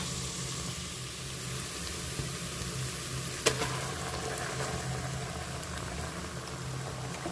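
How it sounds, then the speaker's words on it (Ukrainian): Onion and garlic sizzle steadily in a hot pan, a constant crackling hiss up close with one brief clink partway through. "Ну що, смажу вже цибульку, часничок."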